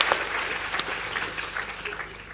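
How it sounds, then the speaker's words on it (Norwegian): Warm applause from a small indoor gathering, a brief dense burst of clapping that tapers slightly, with a voice faintly underneath. "Få en applaus for Janne Nathari."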